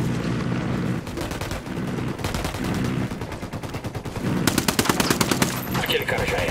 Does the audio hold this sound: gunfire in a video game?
yes